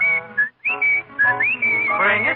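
Someone whistles a bright, warbling imitation of a dicky bird's springtime song, a continuous run of trills and slides broken by one short pause, over soft accompaniment.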